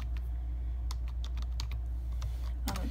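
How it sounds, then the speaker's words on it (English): Scattered keystrokes tap on a computer keyboard, light irregular clicks over a constant low electrical hum, with a louder clatter near the end. "I'm gonna type something up real quick while it's waiting."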